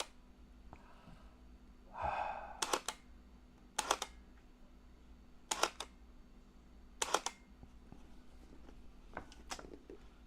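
A Super Cine film camera shutter fires in single frame mode, four sharp separate clicks spaced over several seconds in a quiet room, with a soft breath before them.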